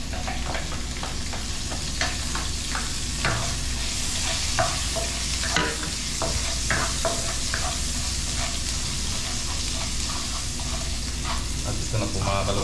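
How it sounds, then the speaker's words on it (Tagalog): Papaya pieces are sautéed in a pan, with a steady loud sizzle and repeated clacking stirs of the utensil against the pan throughout. "Igisa muna natin yung palambutin muna natin yung papaya natin."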